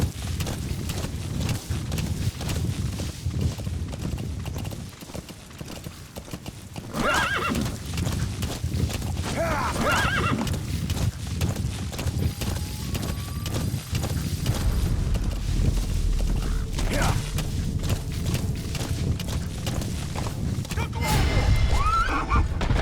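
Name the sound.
horse neighing and hooves in video game Metal Gear Solid V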